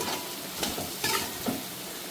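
Biryani masala being stirred into a pot of vegetable biryani, with a few distinct scraping strokes against the pot over a continuous, fairly loud sizzle.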